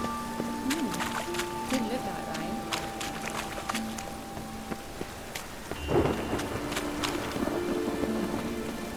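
Rain and rolling thunder in The Witcher 3: Wild Hunt, a steady downpour with a louder thunder swell near the middle, under game dialogue and tonal music.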